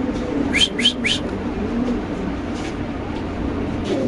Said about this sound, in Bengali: এই যে ডাক ফুটে গেছে দর্শক দেখতে পাচ্ছেন এই মাদি ডিউ মারতেছে